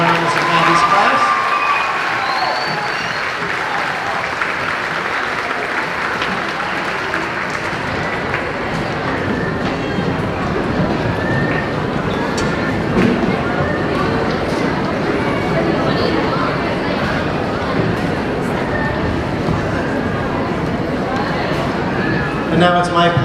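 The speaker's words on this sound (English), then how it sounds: "Give another round of applause to Mrs. Giorno and Mrs. Maddie's class." Audience clapping at a school fifth grade moving-up ceremony, a sustained roar of applause from a crowd, loud and close, with scattered voices and cheers mixed in.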